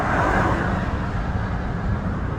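Steady rumbling road noise from cars speeding past, a broad continuous roar with tire and engine wash that stays loud and close without clear gaps between vehicles.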